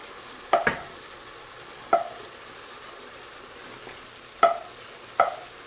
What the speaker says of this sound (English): I'm going to stir it into our rice